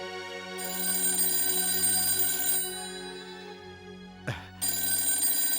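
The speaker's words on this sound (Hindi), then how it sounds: "बेटा, फोन उठा।" A telephone rings steadily with a bright, continuous electronic trill, briefly cut by a short clunk before the ringing resumes.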